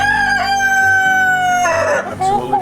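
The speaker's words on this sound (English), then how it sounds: "Not sure you can see this beautiful rooster here." A rooster kept apart from the hens on a small farm crows loudly and close by, one long drawn-out call that breaks into a rougher ending, with no talk over it.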